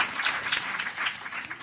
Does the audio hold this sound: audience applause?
yes